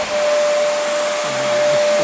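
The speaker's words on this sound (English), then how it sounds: "That's a shop vac." A shop vac runs loudly and steadily close by, with a broad airy roar and a constant whine throughout.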